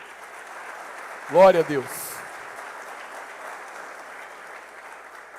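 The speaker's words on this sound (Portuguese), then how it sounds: "Dê um aplauso à palavra do Senhor." Church congregation applauding briefly in a worship service, a short burst of clapping that rises and fades quickly while someone speaks over a steady background hum.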